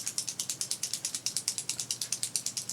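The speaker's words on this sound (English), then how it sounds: "sounds like you have to shake it up, and then you probably have to prime it by pumping that" Pumping the trigger of a Temu spray bottle to prime it, a rapid run of about two dozen crisp ratcheting clicks in a steady even rhythm, close by and on its own with no talk.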